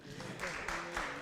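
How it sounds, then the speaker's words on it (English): Audience applause at a student council presidential debate at a university, a short, fairly faint burst of clapping from a crowd. "Kindly clap for them."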